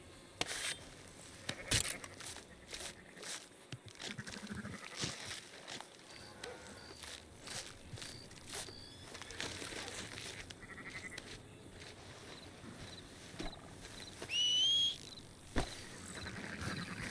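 A sheep in Red Dead Redemption 2 gives a few soft bleats among faint outdoor game ambience, with a brief, clearer cry near the end.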